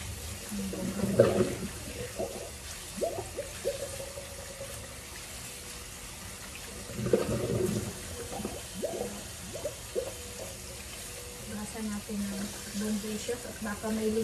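Tap water runs over kangkong (water spinach) being rinsed at a sink, a steady wash with louder splashy surges around the start and the middle, under a voice talking.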